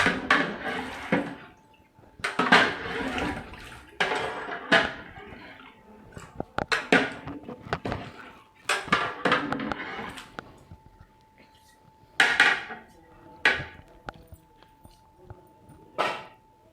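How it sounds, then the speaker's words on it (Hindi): A cooking pot of mutton and potato curry with added water is stirred in bursts of scraping, clanking and sloshing, with brief pauses between strokes. "आखिर में 1 और लीटर पानी ऐड करके अपने इस रेसिपी को अच्छी तरह मिक्स करेंगे"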